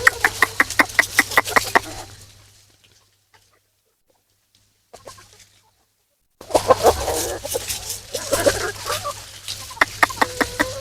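Sonali chickens foraging on grass in a banana garden give rapid, fairly close clucks in bursts at the start and end. A near-silent pause falls in between, with a faint cluck or two.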